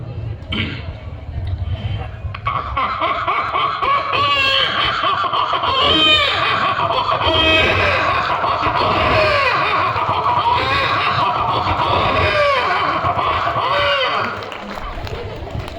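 A mimicry artist imitates a hungry small baby crying, a loud voice producing repeated wavering, wailing cries that rise and fall over several seconds.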